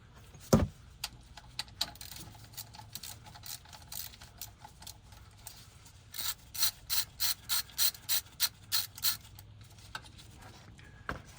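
A hand ratchet loosening the aluminum-threaded transfer case drain plug on a 2010-2013 Acura SH-AWD, giving a steady series of close, sharp clicking strokes after a single loud knock early on.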